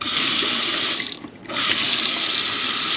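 Water running steadily from a newly installed RV faucet fed by the fresh tank and city water connection, a loud constant hiss that briefly drops away mid-way before resuming.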